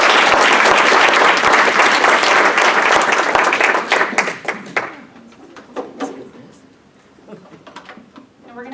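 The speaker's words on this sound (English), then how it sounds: "another round of applause" An audience at a Q&A session on hacking democracy claps loudly for several seconds, then the applause thins into scattered claps and dies away into near quiet.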